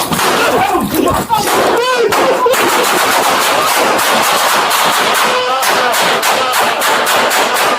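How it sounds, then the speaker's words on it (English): Rapid gunfire during a police confrontation at night, a loud burst of many close shots fired in quick succession, with shouting voices overlapping the bangs. "Shots fired!"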